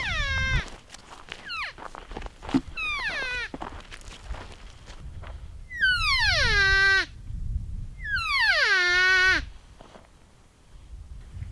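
A hunter in the Nevada mountains uses a call to imitate a cow elk, giving several high, descending, nasal mews in short bursts and then two longer, louder calls, heard close against quiet outdoor noise.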